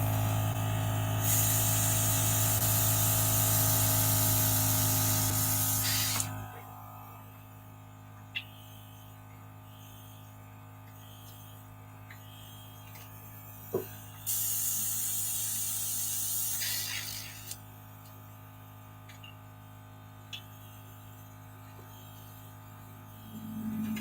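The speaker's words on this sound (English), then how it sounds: "I'll put my compressor on and spray till it's clean" Two bursts of loud, hissing airbrush spray, each several seconds long, separated by quieter stretches of a steady compressor hum with occasional clicks.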